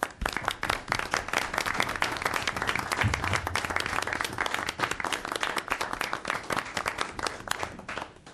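A city council meeting audience applauds first responders with dense, sustained clapping from many hands, steady and fairly loud from start to finish, close to the room microphone.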